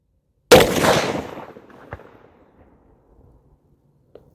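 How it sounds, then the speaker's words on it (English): A single sharp blast from a CVA muzzleloader loaded with a 270 grain Borlock bullet over 120 grains of Firestick powder, loud and sudden, then trailing away in a long rolling echo with a faint click near the end. "first shot with the 270 grain Borlock and the 120 grain Firestick"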